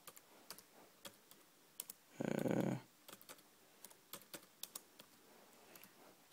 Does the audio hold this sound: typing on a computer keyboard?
yes